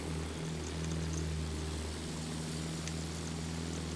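A propeller attack plane in Battlefield 1 drones loudly and continuously with a steady engine hum throughout, without any speech.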